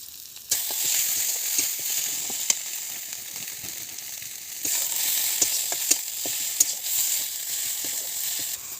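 Masala frying in hot oil in a home kitchen, a steady loud sizzle with brief pops and spluttering bursts that swell as more goes into the pan, with no voices.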